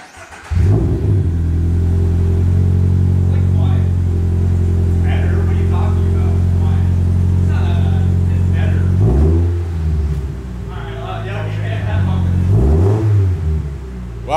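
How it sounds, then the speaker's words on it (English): A 2022 Subaru BRZ fitted with a titanium exhaust starts up and holds a loud, deep idle close by, then revs sharply twice with rising and falling engine surges, with people talking over it. "we're gonna show you guys what it sounds like now with the titanium exhaust"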